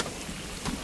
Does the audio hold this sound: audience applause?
no